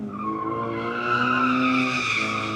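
A car drifts and slides through a turn at a live drifting event in Mexico, its tires skidding with a loud, sustained squeal over the engine's droning whine, rising slightly toward the end.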